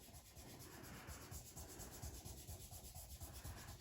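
A finger rubs paint across paper in a children's art lesson, giving a faint, steady scratchy rubbing in short repeated strokes, close and quiet with no talk.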